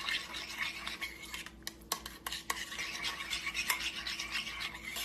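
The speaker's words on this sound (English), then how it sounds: "And you mix it up." A spoon mixes relish and garlic powder into a sauce in a small bowl, making quiet rhythmic scraping and clinking against the sides, soft and close with no voices.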